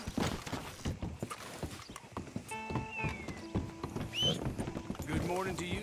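Horse hooves clip-clop steadily along with a whinnying neigh midway in Red Dead Redemption II, near and moderately loud, with other game sounds and a person talking over them.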